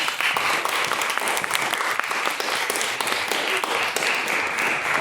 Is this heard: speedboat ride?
no